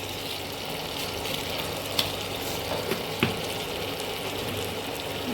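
Food being sautéed in a pan for egg chilli, a steady low sizzle running throughout with a few faint clinks and scrapes from stirring, close and moderately quiet.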